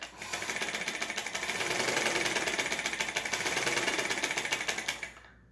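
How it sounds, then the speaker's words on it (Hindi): A noisy household sewing machine running at speed, a loud rapid mechanical clatter with a fast regular rhythm that swells and holds, close by, then stops abruptly at the end. "ज़्यादा आवाज़ करती है सिलाई मशीन"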